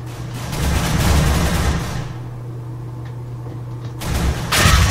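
Rapid bursts of gunfire in Counter-Strike: Global Offensive, a dense crackling volley at the start, a quieter gap, then another loud burst at the end.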